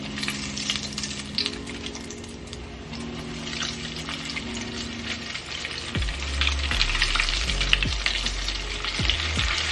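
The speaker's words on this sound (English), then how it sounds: "my grease is nice and hot. So now I'm going to start to add the corn in." Corn on the cob deep fries in hot grease with a loud, dense crackling sizzle that swells as the ears go in, steady and close, with low hums and shifting tones underneath and no talk.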